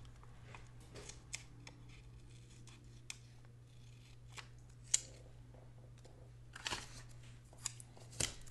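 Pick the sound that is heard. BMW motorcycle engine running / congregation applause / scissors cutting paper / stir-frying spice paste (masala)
scissors cutting paper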